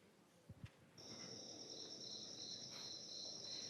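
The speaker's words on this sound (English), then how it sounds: "Crickets." Crickets chirp in a steady, high, shimmering trill that begins after a couple of faint soft knocks and continues unbroken, fairly quiet, with no one speaking.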